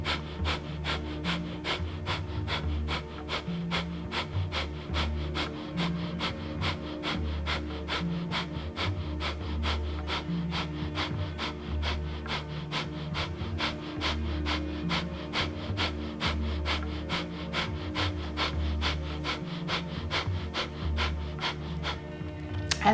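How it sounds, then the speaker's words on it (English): Rapid, rhythmic breath of fire from a Kundalini yoga practice, a steady train of quick sharp nasal exhalations repeating evenly for the full stretch, close and clear with no talking. "and then breath of fire"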